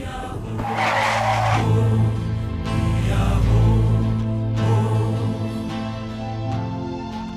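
Tires skid and squeal as a car brakes hard to a stop, the screech rising in waves over a steady engine drone, loud and close with no talk.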